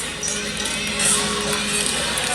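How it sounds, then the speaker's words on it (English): Teammates cheer a gymnast from the sideline at a women's college meet, Air Force against Clemson, with a steady wash of crowd shouting and applause that swells briefly midway. "Cheering her on from the sideline"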